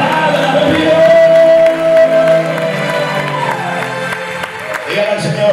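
A church congregation claps and cheers with scattered whoops, a loud, busy wash of applause that fades somewhat partway through, with a sustained musical tone and voices mixed in.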